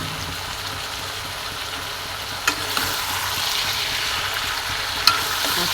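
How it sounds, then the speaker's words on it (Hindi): Chicken and pumpkin fry in a pan with a steady, close hiss of sizzling oil, broken by a couple of sharp clinks from stirring. "अब चिकन और पम्पकिन को भूनते रहो भूनते रहो"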